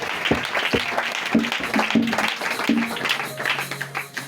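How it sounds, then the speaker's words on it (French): A church congregation applauding loudly for Jesus Christ, with a steady wash of clapping hands and a few voices rising over it. "On acclame très fort pour Jésus-Christ."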